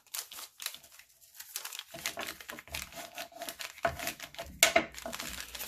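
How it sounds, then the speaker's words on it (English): A paper envelope is folded in half by hand, giving a soft, close run of crinkles, rustles and creasing scrapes in irregular bursts with a sharper crackle near the end. "And you're going to fold your envelope in half"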